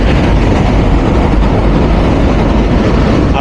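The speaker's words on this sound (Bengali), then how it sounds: "এটা আন্তনগর যমুনা এক্সপ্রেস ট্রেনের সাথে দেখা হলো টঙ্গী রেলওয়ে জাংশনের আউটারে" The Jamuna Express, an intercity train, rushes past near the outer approach of Tongi railway junction with a loud, continuous rumble and rattle, close by and unbroken.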